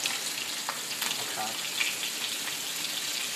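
Shrimp wontons deep-fry in oil while being turned with chopsticks, giving a dense, continuous crackling sizzle up close with small pops throughout.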